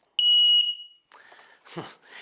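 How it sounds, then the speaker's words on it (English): A carbon monoxide alarm lets out one shrill, piercing electronic beep, followed by faint muffled sounds. "If there's CO in your house, it'll go off like this."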